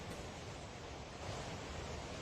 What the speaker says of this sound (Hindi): 10 सेकंड के इस वीडियो में आप देख पाएंगे कैसे एक घर अचानक चारों तरफ से लहरों से घिर जाता है।